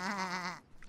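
A single sheep bleats once, close and clear, a short wavering cry that cuts off abruptly.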